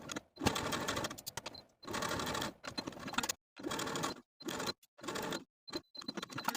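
A sewing machine stitches a linen jacket pocket in several separate bursts of steady, close whirring, with short pauses between runs for backstitching.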